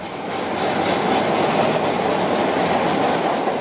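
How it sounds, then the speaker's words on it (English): A train rolls out from a station platform, a steady rumbling wash of wheels and carriages with faint rhythmic clatter, sustained and fairly close throughout. "that was the last train home"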